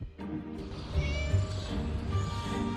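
A cat meows in a drawn-out, wailing cry in the video game Scary Teacher, loud, close and continuous over a low background hum, with no voices.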